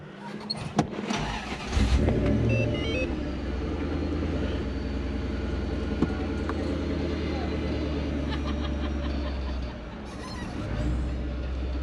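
Supercharged 1UZ V8 engine in a Toyota Hilux idling and revving with a steady rumble as it drives across a paddock, a sharp rise near the start, with people talking over it.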